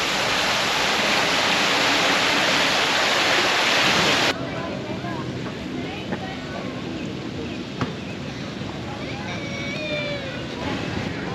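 Fountain water splashing and roaring in the wind in Toronto, loud and wind-buffeted at first, then dropping to a softer steady splash with faint background sounds.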